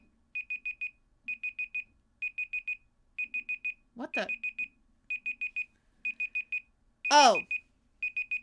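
A stream timer alarm beeps in repeated bursts of four quick high-pitched tones at a steady rhythm, with a brief startled voice cutting in between them.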